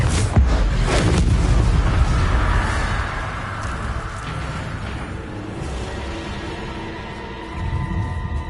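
A Confringo blasting spell explodes in Hogwarts Legacy: a loud, close boom with a rumbling, broad roar that gradually decays, then a slight swell near the end. No voices are heard.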